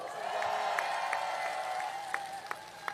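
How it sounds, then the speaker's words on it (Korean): A crowd at a Jeju campaign rally claps in encouragement for a lawmaker, with steady applause that holds for about three seconds over a sustained tonal hum. "우리 미선걸 의원님 죄송하게 생각되는데 격려 박수 부탁드립니다"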